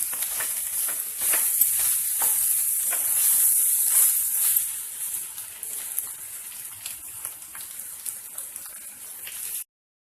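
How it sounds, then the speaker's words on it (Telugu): Egg frying in oil on a medium flame for a tamarind-leaf egg curry, a steady bright sizzle and hiss with small popping crackles, close and continuous before cutting off abruptly. "ఇలా మీడియం ఫ్లేమ్లో పెట్టుకొని ఎగ్ ఫ్రై రెడీ చేసుకోవాలి."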